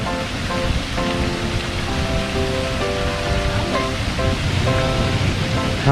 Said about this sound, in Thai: พอน้ำเต็มก็จะเทลงปุ๊บเลยประมาณนาทีหนึ่ง